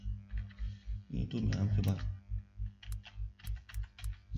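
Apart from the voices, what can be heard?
typing a room name on a computer keyboard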